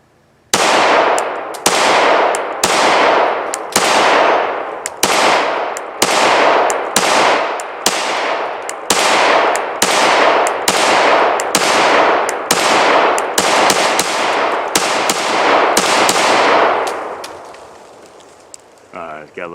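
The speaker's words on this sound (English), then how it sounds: "we're going to shoot a little bit this way" An FN Five-seveN pistol fired at an outdoor range, about seventeen loud, sharp shots in steady, evenly spaced succession, each with a short ringing decay, followed by quiet.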